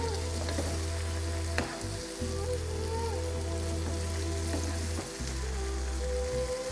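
Masala prawns with spring onions sizzling steadily as they reheat in a pan, a continuous close frying hiss with occasional stirring clinks and scrapes, no talking.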